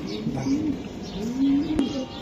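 Pigeons cooing close by, low soft rolling coos repeating in a steady rhythm, with a brief sharp click partway through.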